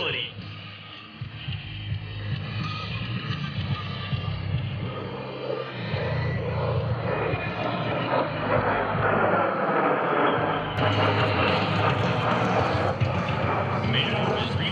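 An A-10 Thunderbolt II jet performs rolls at an airshow, its engine roar sweeping and rising loud across the field, with a public-address announcer talking over the noise throughout.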